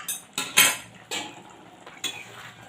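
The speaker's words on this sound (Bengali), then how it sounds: "ঢাকাটা খুলে দেখে নিচ্ছি।" A metal lid lifted off a pot of simmering potato and chicken curry, a few sharp clanks and clattering metal knocks in quick bursts, close and fairly loud, then quiet, with no voices.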